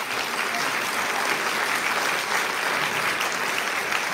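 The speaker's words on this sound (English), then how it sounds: "I think we can get a round of applause as we're wrapping up" A full room applauds at the close of a mayoral forum on the performing arts, a continuous, even wash of many hands clapping with no voices over it.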